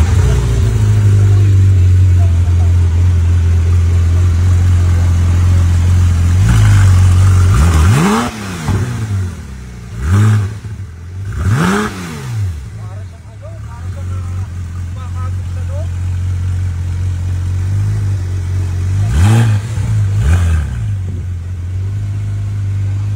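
A sports car engine idles loudly, then gives several sharp revs that sweep up and fall back, spaced a few seconds apart, close and powerful, with a person talking between them.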